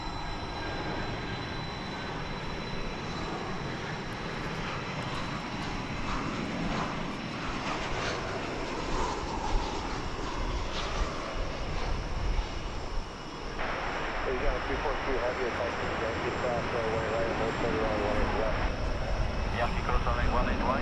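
A jet airliner departs Dallas Fort Worth airport bound for Seattle, its engines a steady, moderately distant roar that swells slightly over time, with faint voices murmuring underneath.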